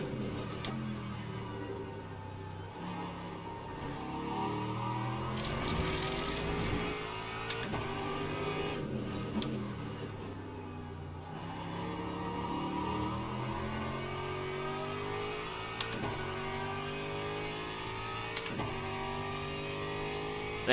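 GT3 race cars, a Ferrari and a Mustang, racing in Le Mans Ultimate at Fuji, engines droning and revving with rising and falling gear pitches, overlapping cars close together, continuous and steady with no talk.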